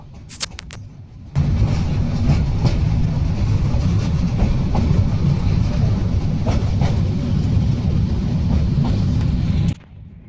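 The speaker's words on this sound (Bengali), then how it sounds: "সেই নদীর উপর দিয়ে আমাদের ট্রেনটি এখন যাচ্ছে" A train rumbles steadily across a river bridge in Bangladesh with a loud, continuous roar and rhythmic rattling of wheels, starting abruptly and ending near the close.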